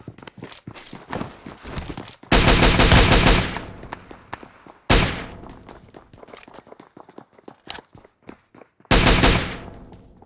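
Bursts of automatic gunfire from PUBG Mobile, rapid loud volleys broken by quieter single shots and footstep-like clicks, repeating in several distinct clusters over about ten seconds.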